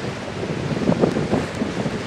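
Ocean waves and wind on an Australian beach at Warrnambool, a steady broadband roar of surf with gusting wind buffeting the microphone, a few louder wave surges rising briefly, no talking.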